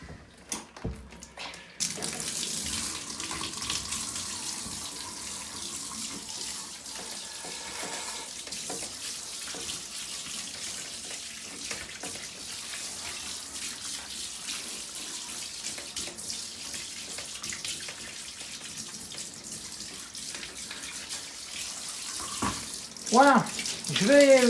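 Tap water runs steadily and fairly loud to rinse a computer motherboard during repair of a Schneider CPC 664, a continuous hiss lasting throughout, with a brief clatter near the end.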